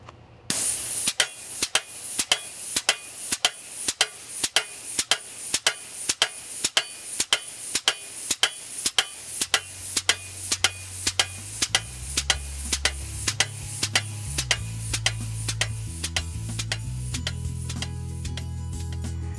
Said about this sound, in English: The Mansaver Post Driver is American made and an excellent, affordable alternative to bulky hydraulic or back breaking manual fence post drivers.